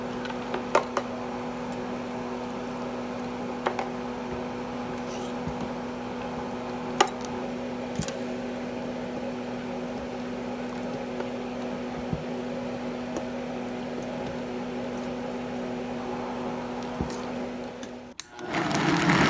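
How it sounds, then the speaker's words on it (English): A blender whirs steadily for nearly twenty seconds, blending toasted mole salsa ingredients with broth, a constant motor hum with faint ticks before it cuts off abruptly near the end. "is going to go into the blender now."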